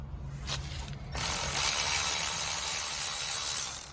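A ratchet wrench works the bottom brake caliper bolt on a second-generation 2009-2014 Honda Insight Hybrid during a brake pad change. It starts after a quiet second and then runs as a steady, close metallic whirr with no talk.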